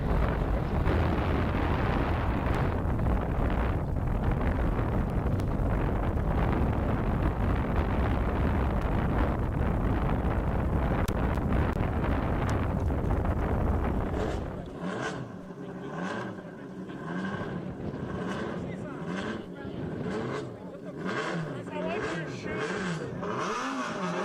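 A land speed racing car leaves its push truck on the El Mirage dry lake, its engine a loud, roaring, wind-buffeted blast that then drops to a thinner, more distant tone with wavering pitch as it pulls away.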